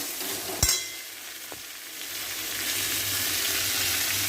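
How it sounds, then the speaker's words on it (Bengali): Green chilli and turmeric frying in oil in a pan, with a steady sizzle that builds slightly over time. A single sharp clink of a utensil comes early, and no one talks. "এই যে কাঁচা লঙ্কা দিয়েছি, তোমার হলুদ নিয়ে দিয়েছি। এবার এটাকে ভালো করে ভাজবো।"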